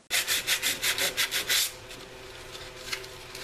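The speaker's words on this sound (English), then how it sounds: "Now I'm going to do the same deal on the passenger side. Sand, wipe down, and prime." Hand sanding on the passenger-side wheel well of a Chevy Astro or GMC Safari van before priming: about nine quick, even back-and-forth scrubbing strokes, close and fairly loud, then a stop that leaves only faint rustling.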